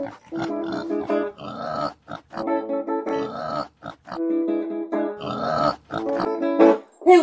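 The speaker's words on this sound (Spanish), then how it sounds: "Es un chancho chino, ahí lo veo." A Chinese pig heard in a theatre setting grunts and oinks in a rapid series of loud, nasal, harmonic bursts separated by short pauses, close and prominent with no talk over it.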